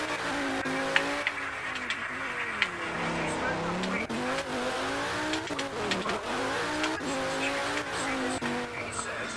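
A race car driven around Circuit de Catalunya in a Roblox game, its engine whining and rising and falling in pitch through gear changes, loud and continuous with brief tire-squeal textures.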